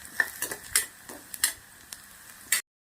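Ginger and garlic stirred in a hot pan, with a series of short clinks and scrapes of a spoon against the pan over a light sizzle, close and moderately loud, ending abruptly.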